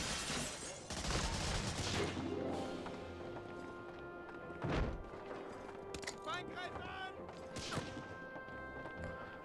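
Gunfire in the Medal of Honor: Frontline video game, with scattered sharp cracks and a few louder bursts amid battlefield clatter, heard fairly faint and spread out over several seconds.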